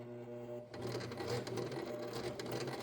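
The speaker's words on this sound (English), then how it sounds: "I have the Kenmore 20-15408 machine, and it does have a blind hem thing" A Kenmore 20-15408 sewing machine stitches a blind hem on thrifted dress pants, starting up after a brief hum into a steady close whirring and rapid needle chatter, alone with no talk.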